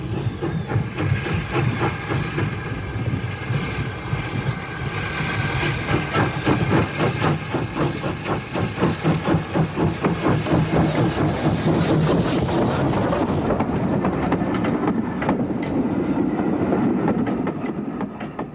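A working ex-LMS Scottish steam locomotive runs close by on a preserved railway at Bo'ness, with a loud rhythmic chuffing beat, hissing steam and clattering wheels that grow steadily fuller and heavier.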